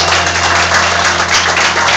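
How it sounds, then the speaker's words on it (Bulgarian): Dense, continuous applause from wedding guests greeting the newlyweds at their entrance, a loud, even wash of clapping without break. "Аплодисменти за нашите младоженци"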